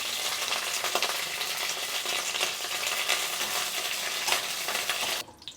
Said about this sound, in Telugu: వేడైన తర్వాత ఈ దినుసుల్లో వేసేసి కొంచెం వేగిన తర్వాత కరివేపాకు వేసుకోవాలి